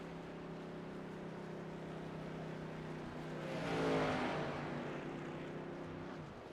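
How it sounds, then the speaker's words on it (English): A race truck in the SERL Truck Series at Pocono, out of fuel, has its engine cut out as it rolls into its pit box. A steady engine drone swells briefly to a louder peak midway, then eases and fades. "As you hear the truck getting cut off as it comes to his pit box, he may be out of fuel completely"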